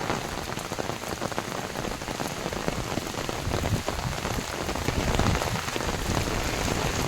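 Steady rain falls at Uparkot Fort in Junagadh, a dense continuous patter of drops striking surfaces close by, loud and even throughout with no voices.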